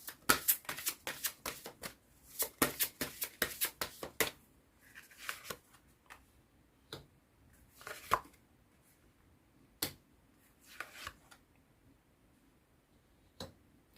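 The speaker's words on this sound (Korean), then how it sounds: "네, 그럼 마지막으로 조언 좀 카드 뽑아보도록 할게요" Tarot cards being shuffled before an advice card is drawn: a run of quick, crisp riffling flutters and taps, dense at first, then thinning into scattered single card slaps with short pauses, close and fairly quiet.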